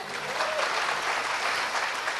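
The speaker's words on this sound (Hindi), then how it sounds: "ताली बजे इस पर।" Audience applause at a live Hindi stage event with folk singers, a steady dense wash of clapping from a large crowd, loud and continuous throughout.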